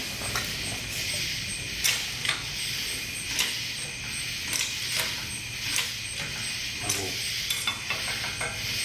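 Steel roll cage tubing for a Jeep XJ being worked in a tube bender, giving a run of sharp metallic clicks and ratcheting knocks at an uneven pace over a steady high hiss, close by with no talk.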